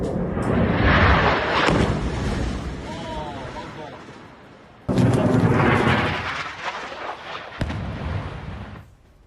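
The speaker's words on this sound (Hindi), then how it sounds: "एयर स्ट्राइक के वक्त जोरदार धमाका होता है, इमारत तबाह हो जाती है" Israeli air strike hitting a building in Tyre, Lebanon: a loud, heavy blast roar that rumbles on and fades, then a second powerful boom with sharp cracks, close and dominating the scene without voices.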